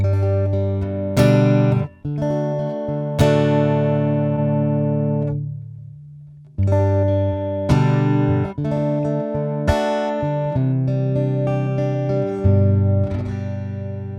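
An electric guitar through a Yamaha THR30IIA amp with no compressor plays struck chords and notes with sharp attacks and uneven decays, loud and unprocessed, phrases separated by short gaps.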